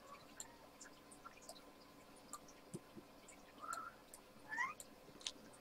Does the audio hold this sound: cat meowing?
yes